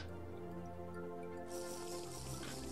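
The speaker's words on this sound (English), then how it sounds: "it is time for us to fill up our friendly neighborhood water jugs here" Water jug being filled in the video game TerraFirmaCraft, a soft steady trickle of liquid that turns brighter and splashier partway through, faint and alone under a low background hum.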